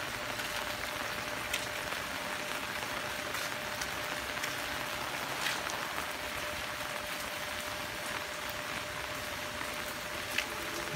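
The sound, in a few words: rain falling on a village road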